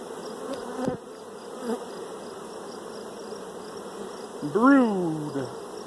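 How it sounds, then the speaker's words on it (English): Honey bees buzz around an open hive being split into nucs, a steady droning hum close by with one louder bee swooping past near the mic toward the end. "There's a lot of freaking bees in this hive."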